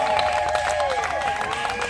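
Guests clap at a civil wedding ceremony in a hall, the clapping brief and rapid, with a sustained tone and voices running beneath it.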